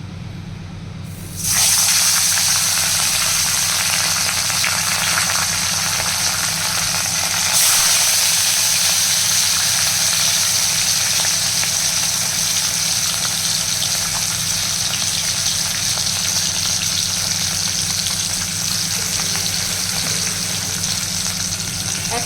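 Fish dropped into smoking-hot oil in a home kitchen crackles and sizzles loudly, a sudden burst of broadband hiss that then holds steady and dense for the rest of the clip, with no talking.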